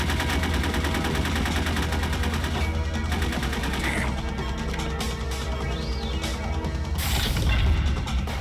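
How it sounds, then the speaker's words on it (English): Gunfire in the Metal Gear Solid video game, a dense continuous clatter of shots and mechanical rattles over a steady game soundscape, loud throughout. "What are you shooting at me for?"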